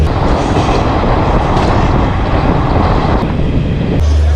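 Garib Rath express train running on rails, a loud continuous rumble and roar from inside with dense rattling, no speech.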